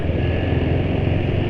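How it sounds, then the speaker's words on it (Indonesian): Motorcycle engine running with olive pomace oil added to its engine oil as an additive, a steady, continuous low rumble at close range with no clear revving, alone without talk. "Jadi suara asak-asak nggak seberisik motor lain, tapi masih kedengar kalau"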